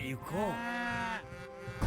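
A cow in the video game Age of Empires III moos once, a drawn-out bellow rising and falling, with a short sound at the start and another at the end.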